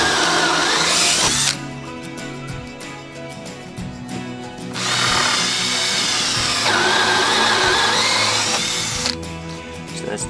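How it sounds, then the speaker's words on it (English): A power drill fitted with a counter bore bit grinds into a merbau deck board in loud, sustained bursts with short pauses between them, the motor pitch rising and falling as the bit cuts. "So that's the counter bore tool"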